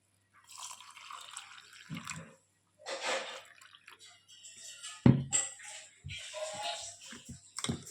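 Cold water being poured for satu juice, heard as intermittent splashy trickles and drips in short bursts with pauses between, close and fairly quiet.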